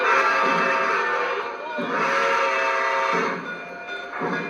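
The Empire State Express train pulls away at a train meet, a loud, steady rolling roar with broad rumble that swells and dips over several seconds, with voices present in the background.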